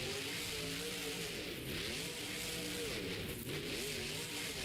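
The Grave Digger monster truck engine roars continuously at a Monster Jam stadium show in Las Vegas, rising and falling in pitch as it revs, loud and steady throughout.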